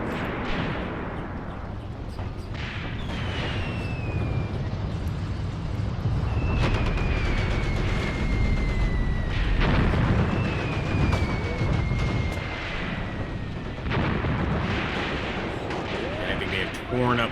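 Tank guns and artillery boom through a WW2 video game battle in North Africa, heavy blasts and crackling gunfire under a rumbling din, with shell whistles and voices shouting over the chaos.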